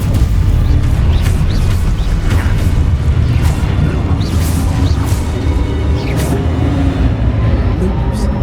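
Spells detonate in a magic video game, a string of dull booms and crashes rumbling under a busy, dense background, with short bursts scattered throughout and some voices mixed in.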